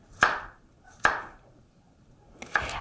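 Three sharp, separate knife chops through carrots on a cutting board, close and crisp with quiet pauses between strokes.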